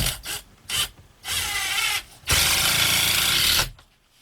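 A power drill drives screws into OSB loft wall sheathing, with short bursts of whirring followed by two longer sustained runs, close and loud with no talking.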